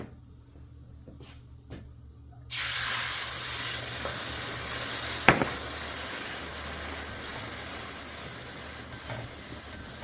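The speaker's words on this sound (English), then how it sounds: "we're getting all the scraping of the bottom part of the hamburger meat to make our gravy" A spatula scraping browned hamburger drippings off a hot pan bottom to start a gravy for homemade Salisbury steak, a steady close sizzle with busy scraping that begins suddenly after near-silence, plus one sharp clack midway.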